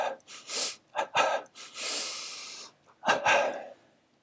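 A person doing a double-breathing exercise, each breath a short nasal inhale followed by a long one, then exhales, heard as close, breathy sniffs and rushes of air with brief pauses between them.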